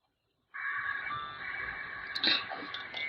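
A steady, buzzy electronic packet radio data tone from a peer-to-peer Winlink connection crackles in abruptly and holds, with chirps and warbles layered on top, heard alone through a scanner.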